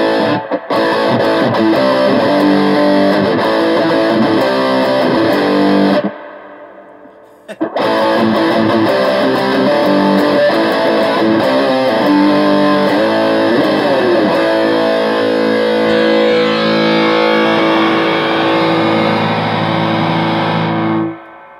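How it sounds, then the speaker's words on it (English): Heavily distorted electric guitar plays loud chords through a Mesa Rectoverb 25 combo amp, a short break, then more chords ringing out with a washy, spacious reverb tail. "Try the reverb. Here's some."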